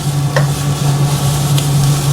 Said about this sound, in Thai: เห็นว่าเรามาคนให้เนื้อมันเข้ากัน